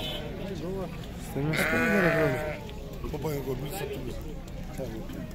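Sheep bleat at a busy livestock market in Sokuluk, with a louder, wavering bleat near the middle over steady crowd noise and people talking throughout.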